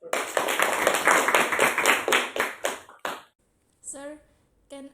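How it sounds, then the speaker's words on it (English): A classroom group claps together for about three seconds in a dense, close burst of applause, which then tapers off into a few scattered claps before brief talking begins. "Okay, give applause."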